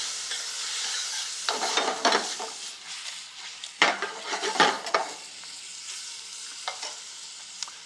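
Oregano and olive oil sauce cooking in a pan for a Greek dish, with a steady sizzle and intermittent louder stirring and scraping bursts, no talking.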